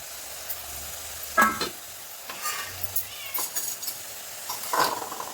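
A spoon stirs biryani rice, seasoned with salt and coriander, in a cooking pot, giving close scraping and clinking strokes in uneven bursts over a faint background sizzle, with no voices.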